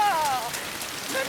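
Rain falling in a scene of the TV series From, a soft hiss of drops on surfaces throughout, with faint tonal sounds and quiet background voices underneath.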